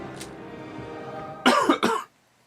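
A few harsh coughs in quick succession from a character in a dark, dingy old barber shop in Actual Crimes: Jack the Ripper, close and loud after a quieter background, then silence.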